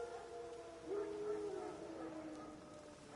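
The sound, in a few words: wild dogs howling in video game The Witcher 3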